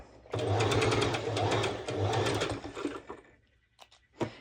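A sewing machine runs a long straight basting stitch: a fast, even mechanical whirr in two close bursts, followed by a few quieter clicks and taps as it stops.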